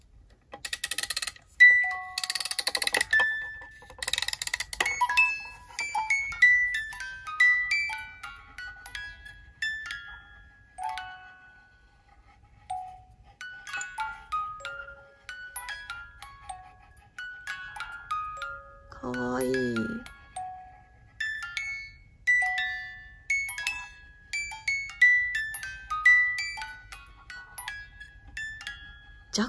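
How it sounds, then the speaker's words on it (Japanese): Pop Mart Hirono music box playing a faint, tinkling tune of plucked metallic notes, a slightly uneasy melody with a soft motor hum beneath, heard close up alone. "オルゴールの部分を回してみよう"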